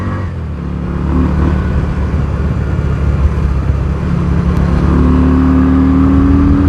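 Yamaha V-Star 250 motorcycle engine droning steadily while riding curvy roads, loud and close with a continuous mid-pitched hum that rises as the rider accelerates toward the end, plus wind rush.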